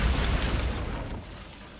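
A Bombarda blasting spell going off in Hogwarts Legacy, a loud, heavy, rumbling blast that fades out over about two seconds, with no voices.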